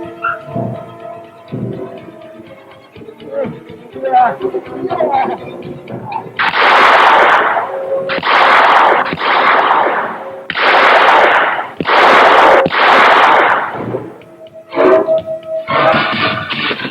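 Gunfire from a Thai TV police drama, with several loud, dense bursts of shots at close range following quieter music and sound effects, and a few more shots near the end.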